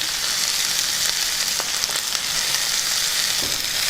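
Steady, bright sizzle of capsicum pieces, chillies, garlic, cumin and tamarind frying in a pan for a Telugu capsicum pickle, continuous and close, with a few faint clicks of stirring.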